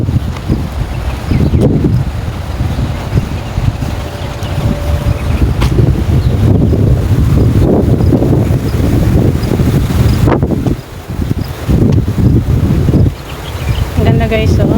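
Gusty wind blows outdoors, buffeting the microphone with a loud, continuous low rumble that briefly drops away twice before surging back.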